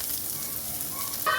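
Chopped onion and garlic cloves sizzling as they fry in a pan while cooking chow chow poriyal, a steady close hiss with a brief brighter crackle near the end.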